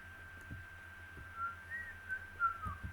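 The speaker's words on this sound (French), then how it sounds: "excusez-moi de siffler" A person whistles a thin, wavering tune in short phrases, fairly faint over low background hum, with no talking.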